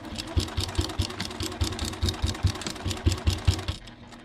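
A sewing machine stitches around a monogrammed Christmas stocking, a rapid steady mechanical chatter of needle strokes, close and even, stopping just before the end.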